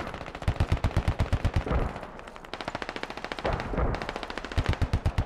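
Helicopter gun run in the game Squad at a firebase: long rapid bursts of machine-gun fire, loud and close, rattling in steady rhythm with a few short gaps between volleys.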